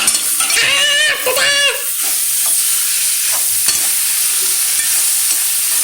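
Idli upma with onion is stirred in a pan, a steady close sizzle under the scrape of a spoon, with a bleating, voice-like sound at the start, then a busy frying hiss.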